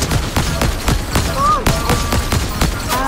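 Rapid ray gun fire in Fortnite rings out in quick repeated bursts, a steady rhythmic volley of sharp shots running throughout at close range.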